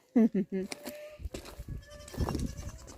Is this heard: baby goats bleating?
yes